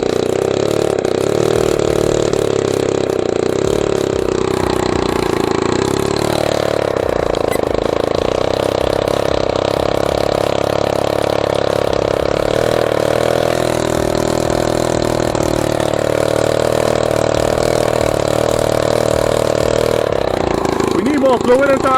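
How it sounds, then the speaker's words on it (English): A Shug Bear 60cc Chinese ATV quad engine runs steadily and loud and close, with the pitch rising and falling through several gentle revs that spin the back tire, and a voice speaks over it. "I'm going to give it just a little bit of gas to spin that back tire."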